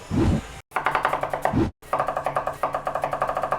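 An onion chopped on a board, a rapid run of crisp knife taps in steady rhythm, close and clear, with a couple of brief pauses between bursts.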